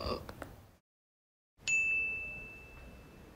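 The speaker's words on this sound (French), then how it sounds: "Ding Fa dièse." A single bright ding chime pitched on F sharp rings out after a moment of silence, then hangs as a clear, slowly fading tone.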